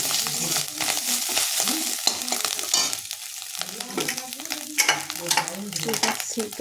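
Ginger crackles and sizzles in oil, loud and near, with repeated stirring strokes and sputtering pops over a steady frying hiss.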